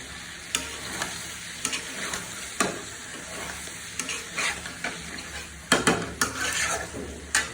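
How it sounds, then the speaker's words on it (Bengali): A spoon scrapes and knocks around a pan of chicken liver and potato curry in a steady run of stirring strokes over a soft background sizzle, close and moderately loud, with no voices. "আমি এখন ঢাকনাটা সরিয়ে আরেকবার নাড়িয়ে দেবো"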